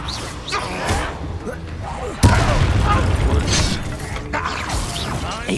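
A Confringo blasting spell explodes during a Hogwarts Legacy fight with a sudden loud slam, followed by a rumbling, clattering tail mixed with game sounds, while a person talks over it before and after.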